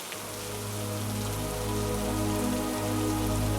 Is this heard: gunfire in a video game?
no